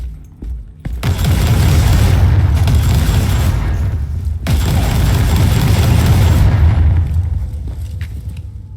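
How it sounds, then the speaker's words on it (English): Heavy gunfire from a weapon in the video game Warhammer 40K Inquisitor, two long, loud, sustained booming bursts of shots, each running several seconds with a brief gap between them. "I like the sound this gun makes."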